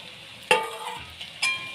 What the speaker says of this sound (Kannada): ಇದನ್ನು ಚೆನ್ನಾಗಿ ಮಿಕ್ಸ್ ಮಾಡಬೇಕು, ಎಲ್ಲಕ್ಕೂ ಮಸಾಲೆ ಹತ್ತೋ ಹಾಗೆ